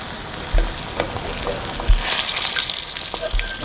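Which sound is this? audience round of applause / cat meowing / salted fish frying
salted fish frying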